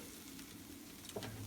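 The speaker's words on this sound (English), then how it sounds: "It's like sizzling in my plate." Chicken and onions sizzle on a plate just off a George Foreman grill, a very faint, steady crackling hiss heard alone for a second or two.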